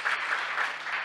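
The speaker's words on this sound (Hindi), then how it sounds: "आइए इसके लिए ताली बजाएं हम।" Dense applause from a crowd gathered at a spoken gathering, a brief, steady wash of many hands clapping at moderate loudness with no break.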